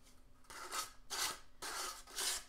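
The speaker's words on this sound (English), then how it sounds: "I'm just sanding the tabs a little bit so they go in" Close, quiet rasping strokes of sandpaper on small wooden dollhouse tabs come in four back-and-forth passes in an even rhythm, with no talking.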